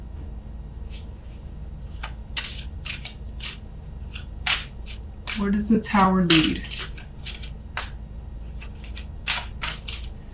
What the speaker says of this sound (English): Again, apologies for the shuffling here.